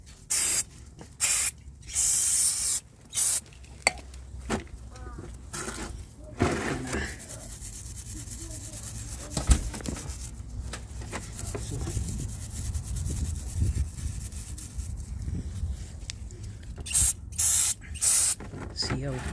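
EGR cleaner sprays onto Jeep 152 engine parts in short, sharp hissing bursts close to the microphone, then rubbing and scrubbing sounds between sprays, with a voice talking in between.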